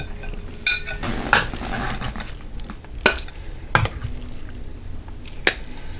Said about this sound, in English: Let me put this on a plate so I can eat it.